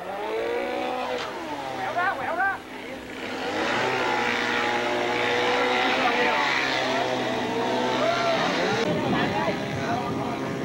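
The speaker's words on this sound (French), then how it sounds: "Le moteur déhale l'embarcation lentement" A boat engine drones steadily throughout, rising and falling slightly, while voices talk over it.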